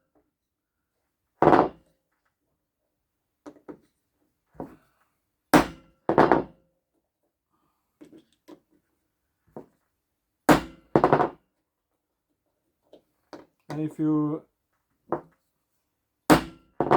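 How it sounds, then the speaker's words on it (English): Hammer blows loosening long screws on a robot lawn mower wheel motor (Honda Miimo HRM40 / Bosch Indego): sharp, separate metallic strikes, singly and in pairs, spread across a quiet workshop, with a brief spoken phrase. "hammer on it a little bit to get to loosen up a little bit."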